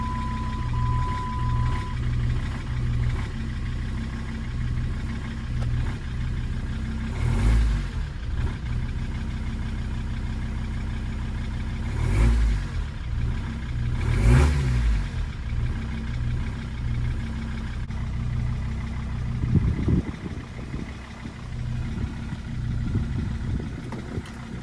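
Car engine idling with a hanging idle fault, a steady low hum broken by several brief rev surges that linger before settling back down.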